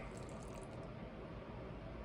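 Canned fruit and juice poured over marshmallow puff in a bowl make a continuous, close wet gush that stays even throughout with no talking.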